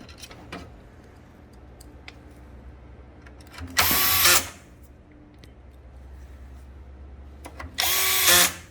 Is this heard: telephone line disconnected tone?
no